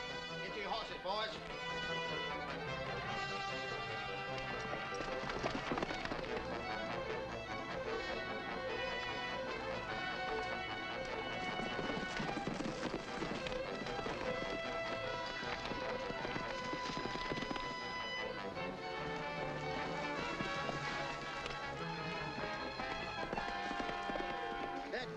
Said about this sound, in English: Get to your horses, boys.